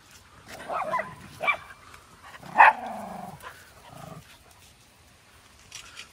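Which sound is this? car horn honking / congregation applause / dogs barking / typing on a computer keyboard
dogs barking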